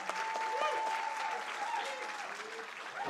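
An audience at a teaching and learning festival breaks into warm sustained applause welcoming the Executive Dean, with a voice speaking faintly over the clapping.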